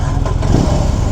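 A 2022 BMW R18 B motorcycle engine cranks and catches, a brief low rumble building to a steady idle close by, with no talk over it.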